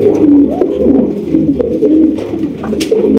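A pair of fancy black checker pigeons coo close by, with soft, throaty rolling calls repeating steadily and a few faint chirps.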